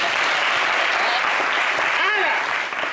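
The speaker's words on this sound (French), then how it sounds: "Alors, vous pouvez applaudir." Audience applauds at a lecture on Ivorian literature, a dense, continuous clapping that fills the room, with a voice briefly rising over it near the end.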